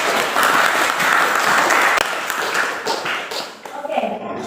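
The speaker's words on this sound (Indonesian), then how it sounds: "Kita memberikan aplaus kepada teman kalian." Students in a school classroom break into loud, dense clapping that carries on steadily, then thins and fades out near the end, with voices mixed in.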